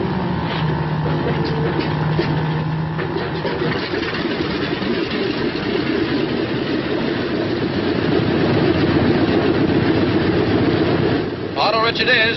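A B-26 airplane engine starts up: a dense, continuous mechanical rumble that swells and steadies as it catches, with a rattling burst near the end, heard through old, band-limited sound.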